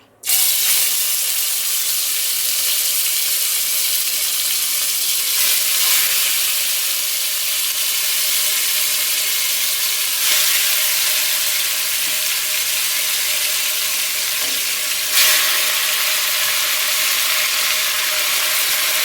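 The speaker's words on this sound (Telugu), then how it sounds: "ఇప్పుడు మనం ఒక్కొక్క ముక్కగా ఈ నూనెలో వేసుకోవాలి" Marinated chicken pieces deep-fry in hot oil, a loud continuous bubbling sizzle that flares sharply at the start and again in sudden bursts as more pieces drop in, with no talking.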